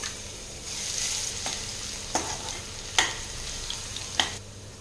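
Seven crushed garlic cloves stirred in hot oil in a pan give a lively, close sizzle broken by several sharp scraping strokes of the spoon at an uneven rhythm.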